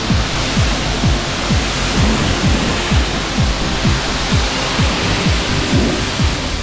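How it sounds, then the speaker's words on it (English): At a self-service car wash, a pressure wand sprays water onto a car in a loud, continuous rushing hiss. Faint rhythmic mechanical thumps from the equipment repeat beneath the spray. "Actually paid to squirt water at a car."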